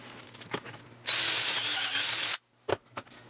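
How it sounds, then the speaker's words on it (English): A power drill with a bit bores a hole into a clamped vertical wooden post, a loud, steady whir lasting just over a second, framed by quieter knocks and handling sounds before and after. "I'm going to drill my hole."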